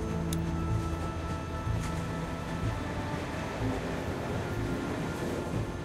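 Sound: train running, from the video game The Walking Dead

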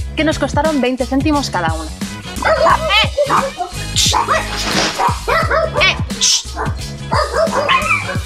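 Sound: dogs barking

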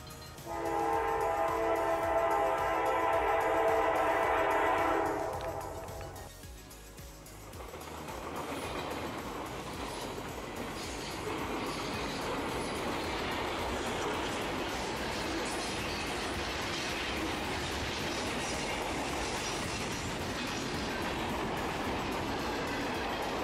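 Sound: long freight train passing

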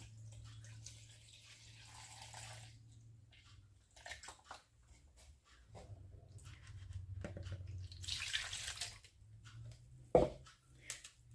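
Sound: milk being poured for yeast dough

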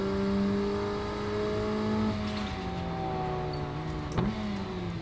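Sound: car engine in Assetto Corsa racing video game

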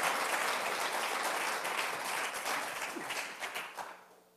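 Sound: congregation applause in church

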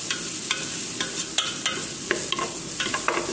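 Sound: sausage frying in a pan

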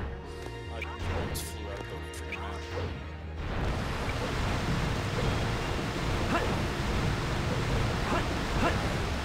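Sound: flowing water of a waterfall in the video game Sonic Adventure 2 Battle

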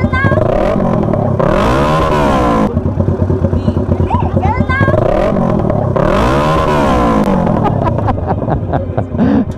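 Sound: motorcycle engine revving

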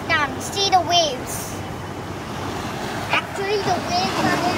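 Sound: ocean waves

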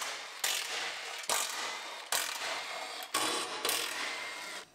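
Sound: unbolting truck bumper bracket

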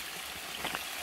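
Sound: stream of water flowing

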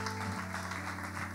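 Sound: people clapping their hands in church

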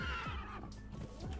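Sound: horse neighing in the video game Conan Exiles

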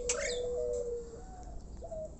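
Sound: starlings (jalak) calling

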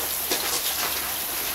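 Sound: heavy rain

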